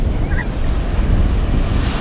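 Sea waves wash onto a beach in a steady roar with heavy wind buffeting the microphone, loud and continuous with no voices.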